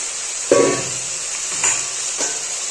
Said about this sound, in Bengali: তো মটরশুঁটিগুলো দিয়ে দিলাম যেগুলো ছাড়িয়ে রেখেছিলাম